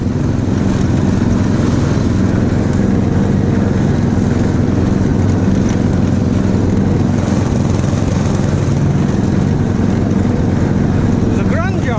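A Snapper lawn mower running while mowing grass, a loud, constant close engine drone with a low rumbling hum that holds steady throughout.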